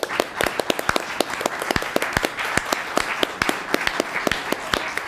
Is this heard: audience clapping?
yes